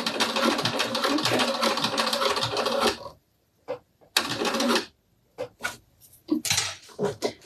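A sewing machine runs in bursts stitching fabric, a few seconds of steady close mechanical whirring, then pauses and shorter starts and stops as the work is repositioned; a brief spoken word is heard.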